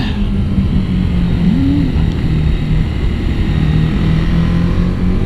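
TVS Apache 310 RR motorcycle engine held at a steady low-end throttle while riding, with a close, continuous rumbling drone, a brief rise in pitch and heavy wind noise throughout.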